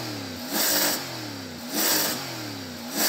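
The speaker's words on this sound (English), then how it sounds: "I'm going to rev up this American V8." Repeated revs from the American V8 of a C8 Corvette, three bursts of rising engine roar with a loud exhaust blare, each dropping back toward idle between them, close by and alone.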